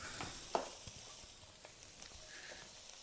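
Faint sizzling of garlic and chopped peppers in a pot is broken by a few soft clinks and scrapes from stirring. The hiss stays low and quiet throughout.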